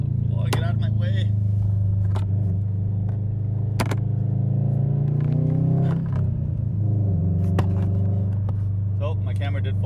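A Subaru WRX STI sports car accelerates, its engine rumbling low and rising in pitch through the gears, heard from inside the cabin with someone talking over it.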